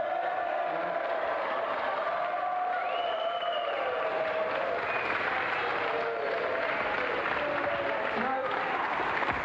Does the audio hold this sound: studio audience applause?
yes